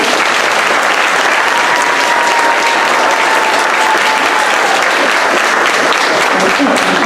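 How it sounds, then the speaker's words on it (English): A school audience claps loudly and steadily for pre-K students at a STEM students of the month ceremony, dense continuous applause throughout with some voices mixed in. "Let's give them a round of applause."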